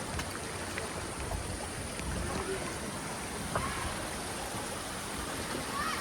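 A hillside stream flows near a waterfall in Kailali, giving a steady broad rushing wash of water heard close and fairly even throughout, with a faint hint of voices in the background.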